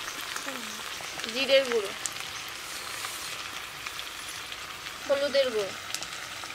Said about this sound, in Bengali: এবার মশলা দিয়ে ভালো করে আর একটু কষিয়ে নিয়েছি।